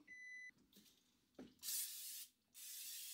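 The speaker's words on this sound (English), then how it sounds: "I mean, it's just olive oil in a spray can." Olive oil spray can releases two close, hissing sprays of about a second each in a quiet kitchen, preceded by a short electronic beep.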